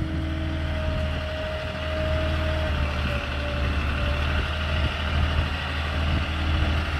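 Moffett truck-mounted forklift extending its boom with a load of drywall: a steady, loud engine drone with a faint intermittent whine, constant throughout with no talk.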